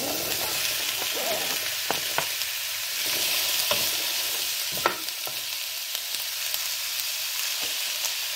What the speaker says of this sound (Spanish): Y aquí vamos a saltear lo que es los chiles morrones, la calabacita, la cebolla y el ajo